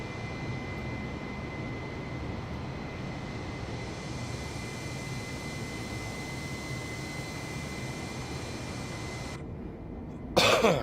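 Airliner taking off in Microsoft Flight Simulator 2020 from New York JFK, a steady broadband jet engine roar with a constant high whine, continuous throughout before a brief cut and a louder burst at the very end.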